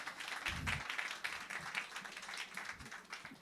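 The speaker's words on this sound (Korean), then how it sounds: "박수 한번 주십시오, 여러분." Congregation applause at a Sunday church service, a steady wash of clapping throughout with a few louder low thumps near the start and end.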